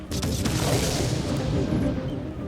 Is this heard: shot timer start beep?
no